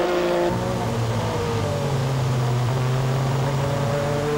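Porsche and Jaguar sports prototypes race in the 1985 World Sportscar 1000 km at Kuala Lumpur, engines screaming loudly and continuously as a car accelerates hard, the pitch shifting between gears.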